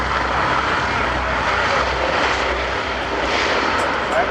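The Boeing B-17 bomber Sally B flies past at an air show. A broad, continuous piston-engine roar holds steady and loud throughout, with no speech over it.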